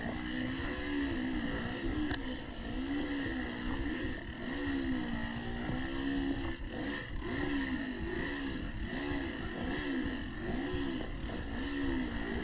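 Dirt bike engine in a hare scramble race at Peace Valley, revving in rising and falling surges as the clutch is feathered, loud and continuous close to the rider with rattling underneath.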